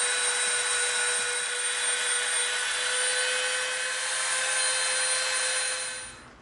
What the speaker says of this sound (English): Now we're going to Dremel from this line right to that line right there.